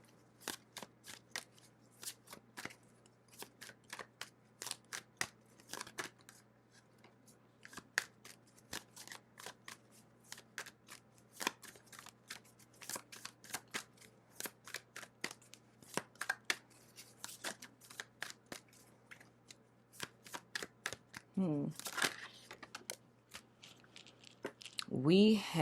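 Tarot and zodiac cards are shuffled in quick, crisp riffles and taps, a close, irregular run of papery snaps, with a voice speaking briefly near the end.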